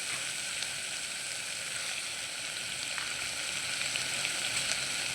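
Vegetable biryani mixture sizzles steadily in a pan, a continuous close frying hiss with only faint traces of stirring.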